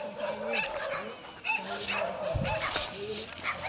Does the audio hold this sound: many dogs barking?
yes